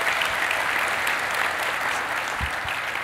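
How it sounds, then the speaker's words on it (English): A round of audience applause at the MozCon 2014 marketing conference, dense and steady, loud and close, with a couple of low thumps near the end. "Can we get a round of applause for Rand"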